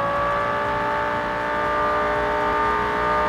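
A car accelerating in the game Estate Agent Simulator, a steady loud engine drone with a tonal whine that holds level, with no talk.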